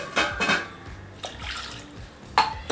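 Water poured and splashed into a bowl of soaking tamarind in a home kitchen, a few short bursts of splashing and clinking separated by quiet pauses.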